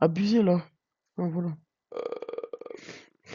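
A short, guttural burp rumbles near the mic among casual French speech from young players of the Roblox game 99 Nights in the Forest, with talk before and after it.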